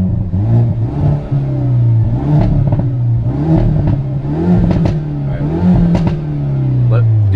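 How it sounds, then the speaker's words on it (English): A 2021 Hyundai Veloster N hot hatch in N mode with its exhaust valve open holds a loud, throaty idle, then swells through several rev blips close by while people talk over it. "And the exhaust is open."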